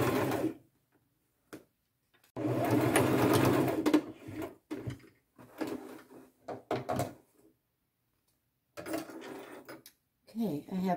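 A domestic sewing machine stitches around the sleeve of an upcycled patchwork top in bursts of whirring, with pauses and handling noises between runs and a voice speaking in places.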